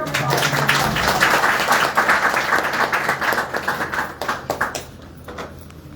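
Audience clapping at a gathering, a dense burst of applause that thins into a few scattered claps and fades out near the end, with no speech over it.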